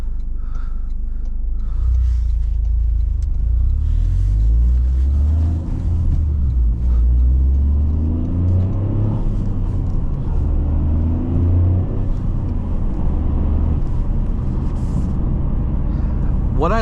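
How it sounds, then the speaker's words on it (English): A 2023 Toyota GR Corolla Circuit with a manual gearbox gives a low, rumbling engine note that swells as the clutch is let out, heard from inside the car with someone talking over it. "as you release the clutch, it revs itself up"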